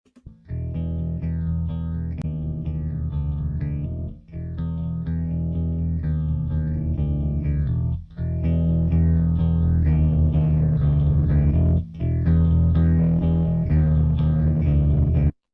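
Bass guitar run through the Softube Saturation Knob distortion plugin plays a steady, gritty, saturated line, dense and continuous with brief breaks between phrases, close and full throughout.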